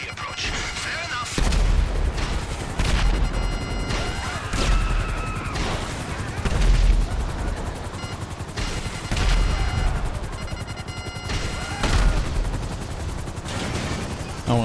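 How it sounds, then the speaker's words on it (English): Heavy gunfire in a GTA Online Cayo Perico heist shootout, rapid automatic bursts and booming shots repeating in waves, loud and close, with low thumps and crashes between volleys. "I deduce from the sound of gunfire that you have not gone for the stealthy approach."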